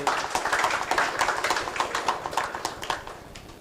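An audience in a community hall claps to welcome a guest, a dense run of hand claps that stays fairly close and steady, then fades slightly toward the end, with no speech over it.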